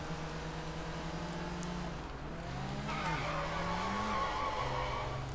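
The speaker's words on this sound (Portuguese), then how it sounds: "Véi, é muito ruim dirigir esses carros grandes aqui no jogo." A big car in the video game Sleeping Dogs skids, with tyre squeal and engine pitch sliding down and back up over a steady engine drone, loud and continuous across several seconds.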